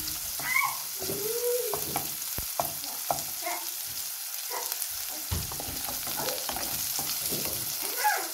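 Squid cooks in a pan for adobo, giving a quiet, steady sizzle with scattered clinks and scrapes of a utensil stirring it, and no talking.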